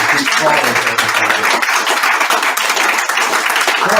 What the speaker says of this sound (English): So round of applause for Debbie.